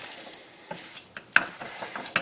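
Chicken and vegetable samosa filling stirred in a pan: quiet, intermittent scrapes and a few sharp metallic clinks of the spoon against the pan over a faint background hiss, no talking.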